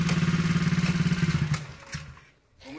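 A stunt motorcycle engine chugs loudly and close at a steady rhythmic idle, then cuts off and sputters out into near silence.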